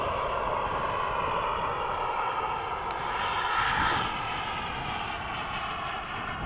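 An HSD Super Viper RC model jet flies past at half throttle, its turbine roar a steady, fairly loud broadband whoosh that swells briefly mid-pass with no talk over it.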